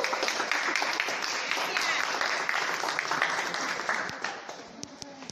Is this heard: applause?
yes